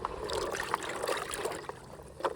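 Water is poured out at home, a close, steady splashing trickle with small bursts of gushing, fairly quiet and without talk.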